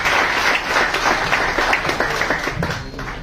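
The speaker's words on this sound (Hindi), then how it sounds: "एक बार सब लोग तालियां बजा दो" A stand-up comedy audience bursts into sustained applause, a dense wash of many hands clapping at once, loud and steady for the whole stretch before tapering slightly.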